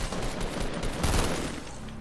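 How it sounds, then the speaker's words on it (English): A rapid burst of gunfire from the battle royale video game Fortnite crackles in dense, overlapping shots, sounding at mid distance and moderately loud with no pauses. "Taking gunfire."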